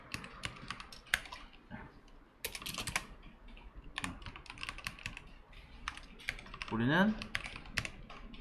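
Someone types jQuery code on a computer keyboard nearby, bursts of quick key clicks with short pauses between them, while a voice speaks briefly under the keystrokes.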